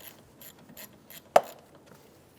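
Ratchet fitted with a 10mm socket working the negative terminal nut on a 2007-2011 Toyota Camry 2.4L battery, giving faint soft ratcheting clicks and then one sharp, close metallic clack.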